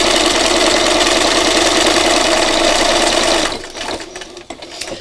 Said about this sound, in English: we're going to do one last line of stitch here